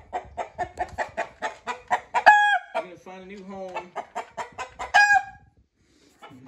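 A rooster clucks in a steady, close run of short calls and breaks into loud crowing twice, with a person speaking briefly between the calls.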